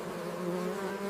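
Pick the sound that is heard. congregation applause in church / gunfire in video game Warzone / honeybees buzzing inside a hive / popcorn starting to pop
honeybees buzzing inside a hive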